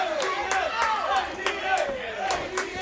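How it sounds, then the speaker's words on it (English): A wrestling crowd cheers loudly for Kevin Ryan at an indoor independent show, sustained roaring and shouting with rhythmic sharp claps or chops cutting through, while a commentator's voice talks over the noise. "Crowd coming alive for Kevin Ryan."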